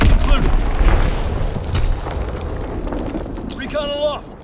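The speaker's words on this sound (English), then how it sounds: "Dropping Azon bomb!" Azon bomb exploding in a video game: a broad low rumble that slowly fades, with a brief tonal game sound rising near the end and no speech.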